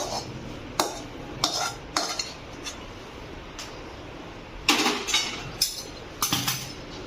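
Spice mix being stirred into mashed potato filling for Punjabi samosa, a spoon scraping and clinking against the bowl in a series of short, irregular strokes, close and moderately loud with quiet gaps between them.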